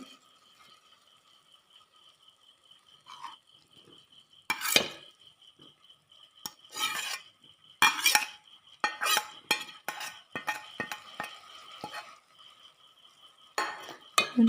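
Ginger, garlic and green chili paste being stirred into sautéing samosa filling in a pan, with repeated scraping and clattering strokes in bursts over a steady faint sizzle.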